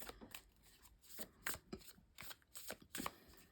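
Tarot cards are shuffled and drawn close up, crisp papery riffles and slaps coming in quick irregular bursts with short pauses between, quiet and without speech.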